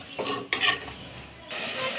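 Spices for pulao are fried in a pan while a utensil scrapes and stirs them in short strokes over a soft, low sizzle, quiet and close.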